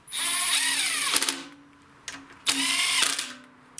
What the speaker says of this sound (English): Now I'm just going to snug them with my impact, but the final tightening I will do manually.